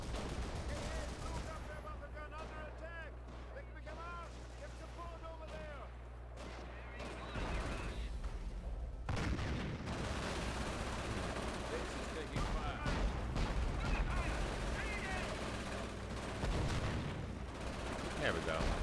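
Gunfire crackles through a Company of Heroes battle, dense bursts of rifle and machine-gun shots with deeper booms, rising to a heavy barrage partway through, while voices talk under the din.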